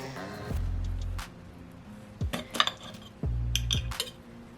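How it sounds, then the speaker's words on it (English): Cutlery clinks and scrapes against a plate while a small piece of garlic shrimp with asparagus is cut, with two longer low scraping strokes and scattered sharp metallic taps between them, close and clear, no talking. "I'm going to cut me a small little piece."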